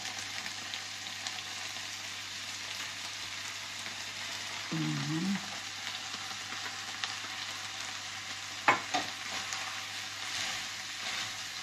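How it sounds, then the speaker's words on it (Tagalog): Rice is stirred and fried in a pan for chicken chow pan, a steady close sizzle with a brief voice partway and a sharp scrape or clack of the utensil near the end. "Ngayon, ilagay na po natin itong ating kanin o ating rice."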